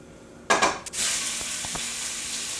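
Steak hitting a very hot pan with olive oil, bursting into a loud, bright sizzle that stays steady and close, with a couple of faint utensil clicks.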